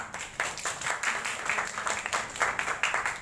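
Audience applause greeting badminton players at a player introduction, steady scattered clapping filling the whole stretch at moderate volume with no voices over it.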